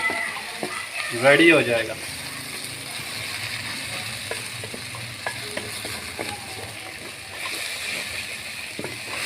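Mustard greens saag frying and being stirred in a pan for village-style sarson ka saag, a steady close sizzle with scraping stir strokes, and a voice speaks briefly near the start.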